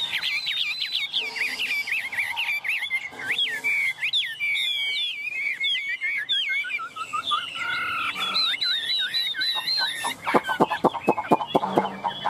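A Chinese hwamei songbird sings a long, varied, loud run of whistled phrases, trills and rapid chips, continuous and close with no talking.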